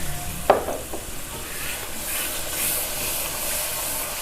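Masala with whisked yogurt fries in a pan for Lahori beef paya, a steady close sizzle and hiss with a sharp stir or clack near the start and soft scraping throughout.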